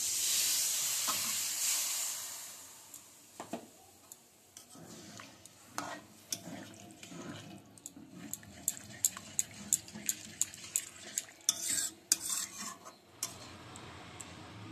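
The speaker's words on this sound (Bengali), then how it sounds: "এবার আমি জল দিচ্ছি।" Water is poured into a pan of aubergine gravy and stirred: a hiss of sizzling at the start settles, then a spoon scrapes and clinks against the pan in irregular, sharp taps, fairly close, with no voices.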